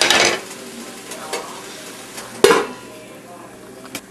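Ramen noodles fry and get stirred in a pan, a broad sizzle with scraping strokes and a sharp utensil clank midway, all close and fairly loud with no talk.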